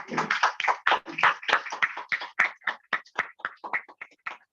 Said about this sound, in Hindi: एक बार अच्छे से दिल खोल के तालियां बजानी चाहिए।